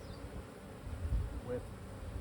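Honey bees hum steadily around an open hive during an inspection, a close, continuous low buzz.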